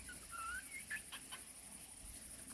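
Chicks cluck and peep in a farmyard, a few short faint high calls in the first second over a steady low background, with no talking.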